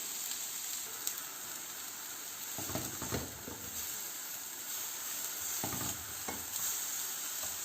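Tomatoes frying in a pan for gola kabab, a steady quiet sizzle and hiss with a few soft stirring scrapes, no voices.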